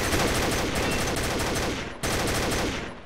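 Rapid gunfire bursts in a tactical shooter video game with bomb planting, two loud, dense rattling volleys back to back, the second starting abruptly after a brief break.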